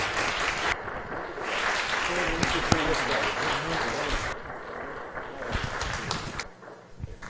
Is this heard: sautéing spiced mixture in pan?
no